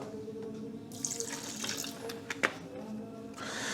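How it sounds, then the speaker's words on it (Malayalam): Vinegar poured over prawns sprinkled with rock salt in a kitchen, a close liquid splashing and trickling sound lasting a few seconds, with a sharp clatter midway and no talking. "എന്നിട്ട് അതിലേക്ക് കുറച്ച് വിനാഗിരി ഒഴിച്ചു കൊടുക്കുക"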